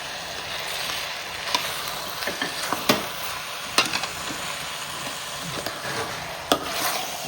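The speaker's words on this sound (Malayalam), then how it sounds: "ഇത് നല്ലതുപോലെ ഇളക്കി" Chicken biryani stirred in a pot with a spoon, soft scraping and irregular clinks against the metal over a low sizzle, close and fairly quiet, no talking.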